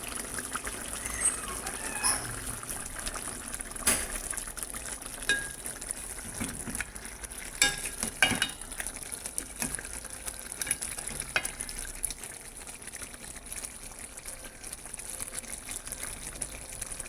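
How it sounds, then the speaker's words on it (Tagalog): Potato and carrot pieces fry in hot oil for a Filipino pork ribs stew, with a steady close sizzle, occasional stirring clinks and scrapes, and faint trickling, without talk. "Kailangan iprito mo yung patatas at carrots."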